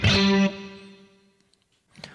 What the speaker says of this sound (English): you're only going to hear the fretted note on string 4, and you'll hear only scratching on the other strings